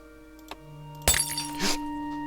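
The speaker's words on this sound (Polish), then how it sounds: "Ups, zbiłem szklankę." A drinking glass shatters in the horror video game Bad Dream: Coma, with a sharp, bright crash followed moments later by a second scattering of glass shards over a quiet, humming game background.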